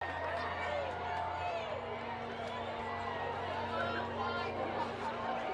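A crowd at a total solar eclipse in Nigeria gives off a steady wash of excited chatter and cheering, with continuous babble and voices filling the whole stretch.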